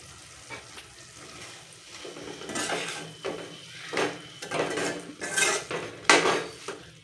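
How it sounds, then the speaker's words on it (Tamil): A spoon clinks and scrapes through meal maker gravy in a pan as coriander is mixed in, with a low sizzle underneath. The metallic stirring strokes come in uneven bursts that grow louder and busier toward the end, and nobody speaks. "இப்போ நம்ம கொத்தமல்லி தூவிட்டு மிக்ஸ் பண்ணிவிட்டு இறக்கிக்கலாம்"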